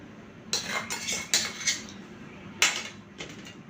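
Metal spoon clinking against a bowl while four spoonfuls of sour yogurt go in for a chicken roast marinade, a few sharp clatters in two clusters, close and fairly quiet with no talking.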